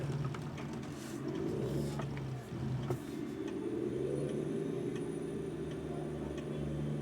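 Freightliner truck engine pulling steadily in a lower gear, a continuous mid-pitched diesel drone with a brief dip and then a slowly rising roar as it builds load, close by and with no talking.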